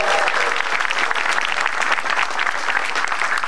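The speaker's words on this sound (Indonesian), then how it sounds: "Tepuk tangan dulu buat Metro TV dong." Stand-up comedy audience breaking into loud, dense applause, continuous clapping filling the room close up for the whole stretch with no talk over it.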